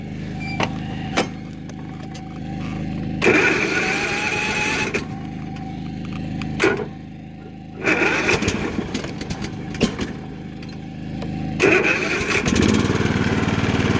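A small lawn tractor engine cranks and sputters in several attempts, catching briefly each time before dying back, over a steady low hum.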